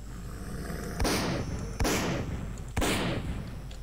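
Three heavy gunshots in S.T.A.L.K.E.R. Call of Pripyat, evenly spaced about a second apart, each a loud sharp crack with a short echoing decay over a low ambient hum.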